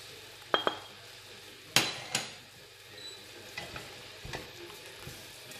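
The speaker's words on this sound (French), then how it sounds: "Je mélange." Spices with black pepper, red pepper and turmeric are stirred in a pot for Tunisian couscous, a soft frying hiss under a few sharp metallic clinks of a utensil against the pot, then lighter taps.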